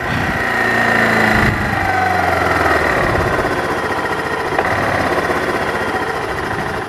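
A Kawasaki KLF300 ATV engine idles in a backyard, a loud, steady, close mechanical drone with a fast, even throb that holds throughout.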